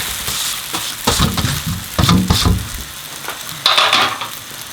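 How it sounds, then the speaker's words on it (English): Chow mein noodles stir-frying in a teaspoon of olive oil in a karai, a steady close sizzle with bursts of louder crackling and scraping as the noodles are tossed, no voices. "I'm going to just give it a quick fry so it heats up just for a minute or two"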